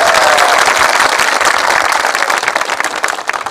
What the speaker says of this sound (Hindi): चलिए एक बार जोरदार तालियों की स्वागत कीजिए मध्य प्रदेश